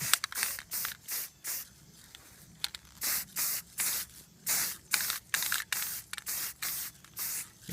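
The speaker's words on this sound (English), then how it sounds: "It does seem a little wasteful to spray paint like this" Repeated bursts of spray paint hiss from an aerosol can onto an airsoft PEQ battery box, short sprays separated by brief pauses in a steady rhythm, close and loud.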